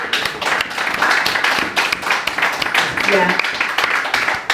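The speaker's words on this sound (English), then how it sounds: "Poets are fed by applause, we love it." Audience applause at a poetry reading by a poet: dense, steady clapping from a crowd that fills the whole stretch, with a voice speaking over it.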